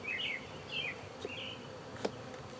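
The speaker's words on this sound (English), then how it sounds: "I'm assuming these are just what do you call it, worker bees and not foragers in here" Honey bees buzz inside a split beehive being inspected, close wavering drones that rise and fall in pitch as individual bees fly near, with a faint rustle and a brief knock.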